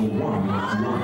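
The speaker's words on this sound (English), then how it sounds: "You can hear the crowd like, oh, it's the multi level fitness." A crowd of children shouts and cheers in a PE class, a dense chorus of voices that stays loud and continuous for about a second.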